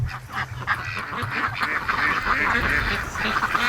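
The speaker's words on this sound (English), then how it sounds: "there's a mess of ducks down here at the swamp" A large flock of ducks quacking together at a swamp, a dense overlapping chorus of calls that runs steadily and fairly loud from start to finish with no pauses.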